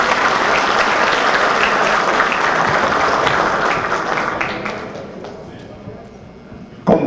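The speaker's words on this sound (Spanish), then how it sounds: "Fuerte el aplauso para Heriberto García" Loud crowd applause at a political party rally in the Dominican Republic, thick sustained clapping for about five seconds that gradually thins into a few scattered claps before a sudden sharp noise at the end.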